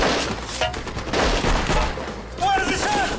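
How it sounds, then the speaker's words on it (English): Heavy gunfire and RPG rocket shooting during the Entebbe hostage rescue, loud bursts and rumbling booms filling the clip, with a few voices mixed in. "Outside there was a lot of fire. We are shooting with the RPG rocket."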